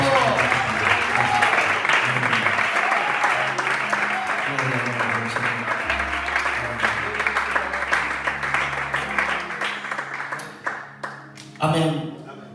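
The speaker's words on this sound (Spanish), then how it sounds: "¿Por qué no aplaudes un momento a su palabra?" Church congregation applauding, a steady, fairly loud wash of clapping that runs throughout and tapers off near the end, with voices and other sounds mixed underneath.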